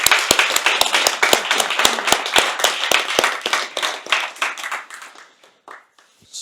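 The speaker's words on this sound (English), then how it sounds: "They deserve a clap." A small audience claps at a tech talk on data behind large language models, a crisp burst of individual handclaps close by that thins out and fades to silence.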